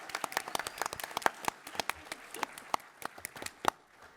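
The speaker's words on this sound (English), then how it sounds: "Can we give Katie a round of applause for this amazing cosplay?" A small, scattered round of clapping for a cosplayer at a Dungeons & Dragons anniversary panel at a San Diego convention, distinct individual claps at moderate distance that thin out and stop near the end.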